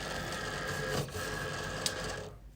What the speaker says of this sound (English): let's go ahead and load up the vinyl cutter